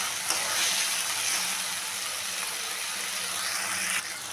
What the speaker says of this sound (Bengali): মশলাটা ভালো করে কষিয়ে নিলাম, দিয়ে দিলাম ভেজে রাখা আলুটা,